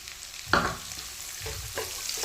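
Finely chopped onions dropped into hot oil for a tempering while cooking a watermelon-rind sabzi in a Punjabi kitchen, giving a sudden close sizzle burst followed by steady frying crackle and a couple of stirring scrapes.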